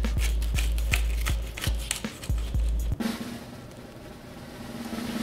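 A knife saws through a toasted rainbow grilled cheese sandwich in quick, evenly spaced crunchy strokes, then the cutting stops and a softer, steady background hum follows.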